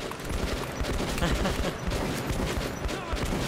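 Allied gunfire in the video game Metro 2033 Redux, a rapid, continuous fusillade of overlapping shots, dense and moderately loud with a voice over it.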